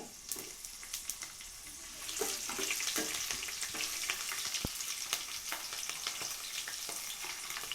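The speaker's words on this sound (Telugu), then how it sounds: "పచ్చిమిరకాయలు వేసేసుకుందాము." Green chillies are dropped into hot oil with fried tempering spices, and a loud, dense sizzle swells after a couple of seconds, with stirring clatter and sharp crackles throughout.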